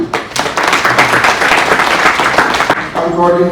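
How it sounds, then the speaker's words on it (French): Audience applause at an official ceremony, dense and steady for several seconds, with voices briefly audible under it near the end. "un tonnerre d'applaudissements"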